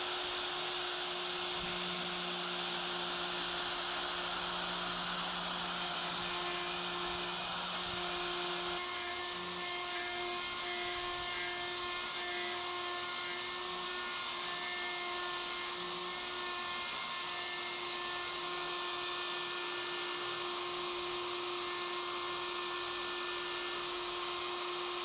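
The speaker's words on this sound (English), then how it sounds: "So let's get the correct size holes, pilot holes drilled into the dowels" A power drill bores pilot holes into wooden dowels for a DIY Pikler triangle, a steady whining motor drone that runs continuously, shifting pitch slightly partway through.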